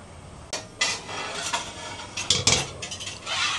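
Matki sprouts sautéed and stirred in a pan, a metal spoon scraping and clinking against the pan in irregular taps and scrapes, close and fairly quiet.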